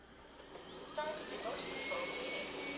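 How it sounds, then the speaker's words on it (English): A Dreame Z10 Pro robot vacuum runs at turbo suction, a steady close whooshing whine with a rising motor tone that grows louder as it spins up. "So now we'll switch to turbo, which is the strongest of all the suction levels."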